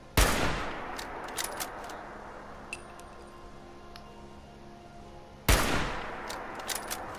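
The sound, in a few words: video game gunfire, headshotting a Scorched mutant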